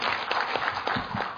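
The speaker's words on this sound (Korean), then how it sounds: "힘찬 박수로 환영해 주시면 고맙겠습니다." An audience at a Korean forum session gives brief, moderate applause to welcome the moderator, a short burst of indistinct clapping in a hall.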